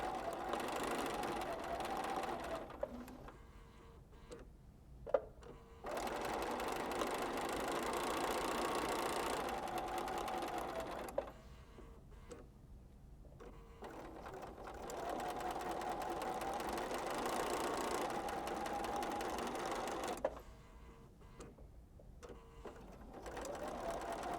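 A home sewing machine stitches quilt pieces in long bursts of steady whirring, stopping briefly between seams with small clicks, heard up close without any talking.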